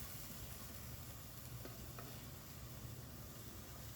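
A cauliflower and bean curry with spices is stirred in a pan: a soft, steady sizzle and scraping stir with a couple of faint clinks, quiet and continuous.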